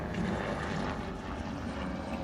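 A helicopter flies overhead in a far-northern town, its steady droning rotor and engine noise rumbling continuously and fairly loud throughout, with no talking.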